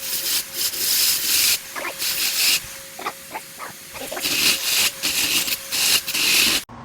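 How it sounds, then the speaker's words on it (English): Grinder working a crack out of a cylinder head, heard as a steady hiss broken up by repeated short bursts as the tool is pressed on and lifted off the metal, fairly close and with no talking. "Got most of that crack ground out. I think I want to stop grinding here."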